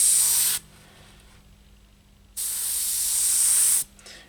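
Spray paint misted onto a low-rider saw during pinstriping, two close loud hissing bursts, the first brief and the second longer, separated by quiet.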